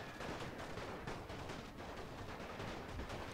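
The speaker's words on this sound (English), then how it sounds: "They are just blowing up their own men, just because of the angle they've deployed their artillery in." Artillery fire in the World War I strategy game The Great War rumbles as a dense, continuous barrage of overlapping booms and crackles, distant and steady with no voices.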